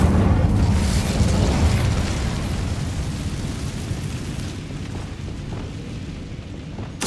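An Incendio fire spell in Hogwarts Legacy bursts with a loud, rumbling blast that rolls out and slowly fades over several seconds.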